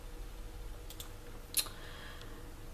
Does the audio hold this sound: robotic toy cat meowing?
no